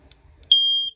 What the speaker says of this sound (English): Smoke detector's right above our head right here.